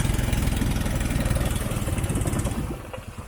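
A steady, rumbling boat engine chugs along at a constant pace, loud and close, easing off slightly near the end, on a river crossing at the Thailand–Myanmar border.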